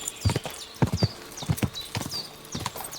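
Horse hooves clip-clopping on a road in Kingdom Come Deliverance 2, a close, steady run of hoofbeats with faint high squeaks between them.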